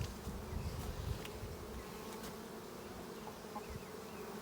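A swarm colony of bees hums in a steady, fairly faint drone during a hive inspection, with no voices.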